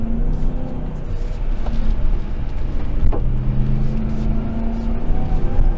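A RAM TRX truck in Baja mode, with its rear differential unlocked, runs a dusty off-road rally short course. A loud, steady engine and road rumble carries on without a break.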